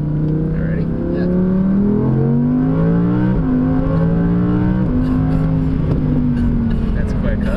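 A 2017 Audi R8 accelerates hard from inside the cabin, its engine rising in pitch through several gear changes with loud, steady roaring, while people talk over it.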